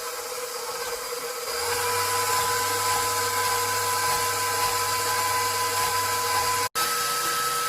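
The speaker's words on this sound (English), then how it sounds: "you're going to put your mixer at a medium speed and you're going to let it go" An electric mixer at medium speed whipping cream with vanilla and sugar: a steady, high-pitched motor whine that kicks in and holds at a loud, constant level, with a brief cut near the end.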